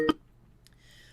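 Incoming phone call tone on a call-in talk show: a single short electronic beep, followed by faint tonal hum in near silence.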